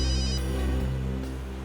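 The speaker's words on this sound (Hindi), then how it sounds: "एसीपी साहब का फोन आ रहा है" A telephone rings with a steady electronic tone, sustained and fairly loud, with a slight shift partway through.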